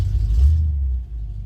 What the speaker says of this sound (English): Let's see if she'll just fire right up.